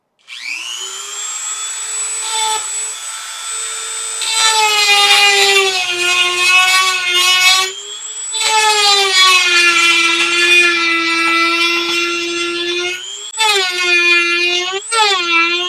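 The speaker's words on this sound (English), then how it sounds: "we hit the little lithium battery cell with our Dremel" A Dremel rotary tool grinds into a small lithium battery cell on a DS12778 chip, a loud high whine that rises and falls in pitch as the bit bites and eases off, with brief gaps between passes.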